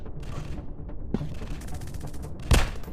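Gunfire in a Counter-Terrorists first-person shooter game, with scattered shots over a low background rumble and one loud, close blast near the end.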